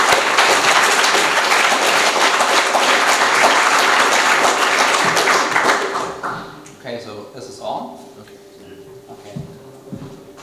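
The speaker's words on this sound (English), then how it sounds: "a warm applause for Simon Ochsenreither" A conference audience gives a speaker dense, loud applause for about six seconds, then it thins to scattered claps and shuffling as talking begins.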